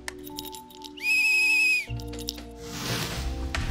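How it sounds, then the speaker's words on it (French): A small whistle blown in the video game Lethaos: Bloomtown, sounding as one steady, clear, high-pitched note with bright overtones held for under a second, loud and alone over quiet game ambience. "Un chouette petit sifflet."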